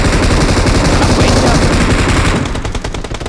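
Rapid automatic gunfire from PUBG Mobile rattles loudly and continuously for about two and a half seconds, then breaks into separate quicker bursts, with game sounds close and dense throughout.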